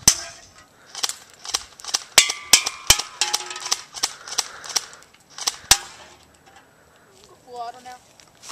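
A rapid series of sharp, snappy airsoft gun shots fired at cans, from a rifle fitted with a foregrip and flashlight. Some shots are followed by a metallic ping from a hit, and a short gap precedes a final shot.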